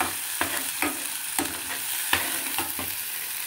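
A spice paste fries in oil for paneer Hyderabadi while being stirred continuously, a soft sizzle broken by regular scraping strokes of a spoon against the pan, close and moderately loud.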